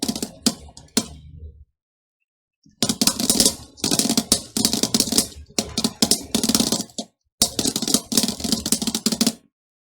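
Someone types an email on a computer keyboard, close up, in rapid bursts of clattering keystrokes broken by short pauses and one longer silent gap.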